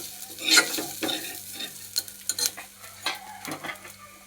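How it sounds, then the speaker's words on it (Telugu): Pepper and bay leaves fry in a pan for mutton soup, a soft sizzle broken by repeated scraping stirs of a spoon, several brisk strokes at uneven intervals, close and without talk. "పెప్పర్ అలాగే బిర్యానీ ఆకులు ఇవన్నీ వేసుకున్న తర్వాత బాగా వేగించుకోవాలి"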